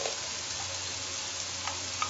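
Meat with chopped tomatoes and turmeric sizzling in a pot for a potato and meat stew, a steady close crackling fry with a couple of faint stirring clinks, no voices.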